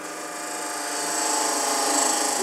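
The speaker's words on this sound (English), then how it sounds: "I'm going to use my wide parting tool, my beading and parting tool." Holly spins on a wood lathe under a beading and parting tool, a continuous bright hissing cut that builds slightly in loudness over a couple of seconds, close and steady with no speech.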